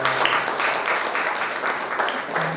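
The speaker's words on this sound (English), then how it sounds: "Have a big round of applause for coming here, taking your time out, encouraging Archita" An audience at a book release event applauds steadily, many hands clapping in a dense, continuous patter with faint pulsing swells from start to end.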